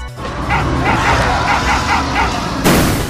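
A dog attacking in an audio drama, barking in a quick series of sharp yaps and snarls close up, ending with a burst of noise.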